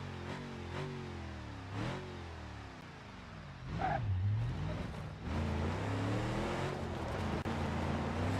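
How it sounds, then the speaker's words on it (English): In the BeamNG.Drive driving game, a built off-road car with a four-liter inline six revs up repeatedly, the engine tone swelling and falling through several steady rises, close and moderately loud. "rev it up a little bit"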